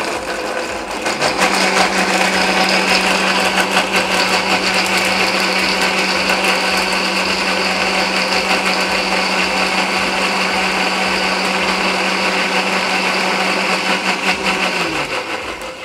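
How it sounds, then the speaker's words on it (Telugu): Kitchen blender whirring fruit with honey for homemade popsicles, a loud close motor drone starting abruptly and holding steady for about thirteen seconds before winding down. "ఇప్పుడు మనం ఇది బ్లెండ్ చేయబోతున్నాం."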